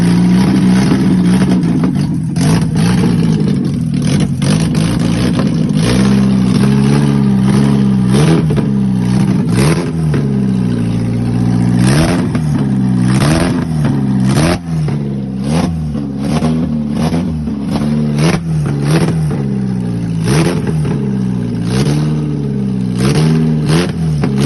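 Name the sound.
Nissan SR20DE engine running in a K10 Micra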